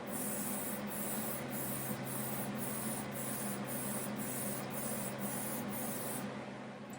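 A spray gun lays OD green coating onto gun parts in rhythmic pulses of hissing spray, about one per half second, close and steady over a low hum before cutting off.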